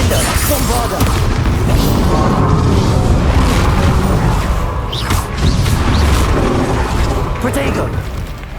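Spell explosions from Confringo and Bombarda in Hogwarts Legacy, a dense, continuous barrage of booms and bursts layered with game effects and shouted incantations throughout.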